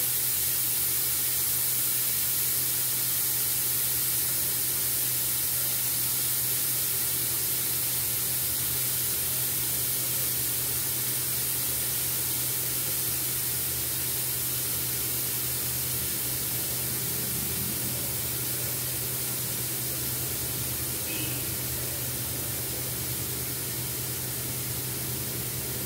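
Steam hisses steadily from a steel pressure cooker while chicken biryani cooks, a continuous broadband rush with a low hum beneath, loud and unbroken throughout without any talk.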